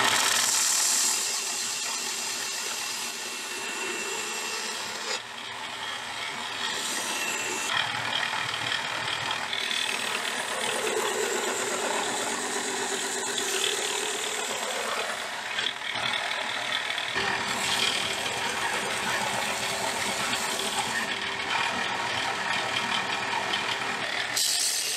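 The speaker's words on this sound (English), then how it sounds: "Now I'm gonna grind the bevels." A belt grinder grinds the bevels on the blade of a large handmade liner lock knife, a loud, continuous abrasive roar that shifts slightly in tone as the steel is worked, with no talking.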